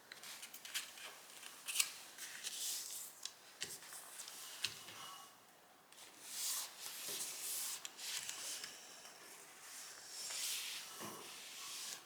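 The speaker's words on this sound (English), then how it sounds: "And now we're going to fold on the diagonals." Paper being folded along its diagonals for an origami airplane; close, quiet crinkling, rubbing and sharp creasing snaps in irregular bursts, with no talking.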